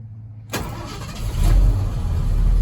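A 1977 Ford F250 engine cold-starting: a sharp crank after a moment of quiet catches into a loud, close rumble that swells and settles into a steady idle.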